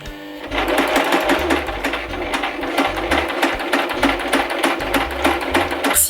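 A sewing machine stitches thrifted clothing in fast, loud, rhythmic bursts of needle hammering that run continuously after a short quiet start, close to the listener with no talk.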